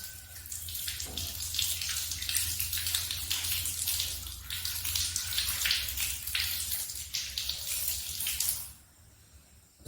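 Water runs steadily from a tap while the feet are washed during wudu ablution, a continuous splashing flow heard up close for about nine seconds before it abruptly stops.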